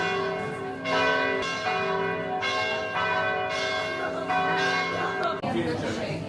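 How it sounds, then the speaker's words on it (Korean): A church bell rings in Rome, loud and close, its repeated strokes ringing out in a slow regular rhythm with overlapping resonant tails, while faint crowd chatter and a voice sit under it. "갑자기 종소리가 들려."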